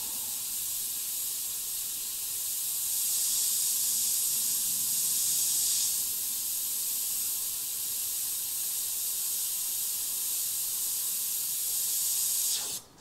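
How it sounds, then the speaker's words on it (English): A steady, airy hiss of an airbrush spraying blue candy paint onto a skull runs almost unbroken for several seconds, then cuts off abruptly at the end. "Applying the blue candy, spraying it a 50-50 overlap to get even coverage."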